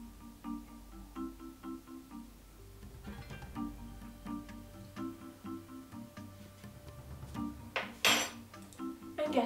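A spoon stirs a fake blood mixture of red food dye and corn flour in a bowl, giving a steady run of light clinks and scrapes with a louder clatter near the end.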